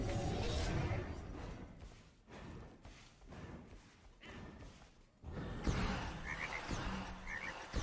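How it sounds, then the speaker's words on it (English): Frogs croak as part of a character skin effect in the video game Smite, mixed with whooshes and thuds from the game, fairly quiet and layered. "Oh, it's frogs."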